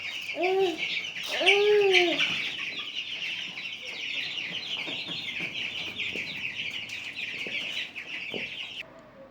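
Andijan black chickens on a small farm give a couple of loud rooster-like crowing calls up front, then low clucks continue over a dense bed of bird chatter.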